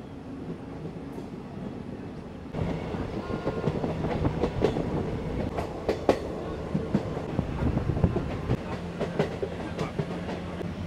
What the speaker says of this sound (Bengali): চলো ট্রেন জার্নিটা এনজয় করি